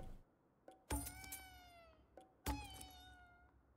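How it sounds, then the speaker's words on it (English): A cat meowing in the video game Ghostwire Tokyo, two distinct drawn-out meows with small clicks between them, fairly quiet against a soft game background. "Yeah, I hear the cat."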